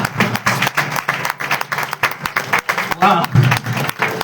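A church congregation claps in a steady rhythmic beat, the sharp repeated claps loud and close, while a preacher's voice rises over them near the end.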